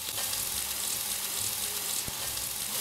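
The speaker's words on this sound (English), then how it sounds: "In goes our leek, and we're going to fry that for a few minutes until it begins to soften." Leek frying in melted fat in a pan, a steady close sizzle and crackle running throughout with no talk over it.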